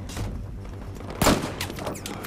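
Gunfire in the PC shooter Battlefield Hardline during a heist match, a single sharp shot standing out over a steady background of game noise.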